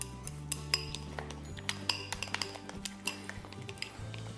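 A utensil beats eggs with mozzarella and pepper in a dish, making quick, light clinks and taps in an irregular rhythm. The sound is close but quiet and is heard without any talking.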